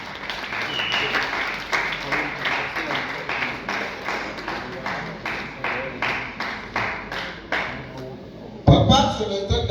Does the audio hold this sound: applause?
yes